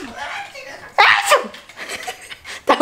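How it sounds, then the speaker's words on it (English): A single sudden sneeze bursts out close by about a second in, followed by brief exhaled noise, with people chatting quietly around it. "That was actually a sneeze."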